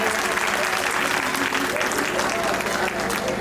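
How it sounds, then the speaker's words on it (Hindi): Sustained, loud audience applause fills a school annual function hall, steady and dense throughout with a faint murmur of crowd noise beneath. "एक बार से जोरदार तालियां।"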